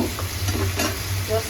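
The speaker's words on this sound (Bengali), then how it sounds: "আমার শুটকি ফ্রাই হয়ে গেছে, একটু ভাজা ভাজা করবো" Dried fish (shutki) frying with garlic in a pan gives a close, continuous crackling sizzle with light stirring, brief and steady throughout.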